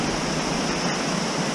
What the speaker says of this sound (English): This is Stettatle Creek Falls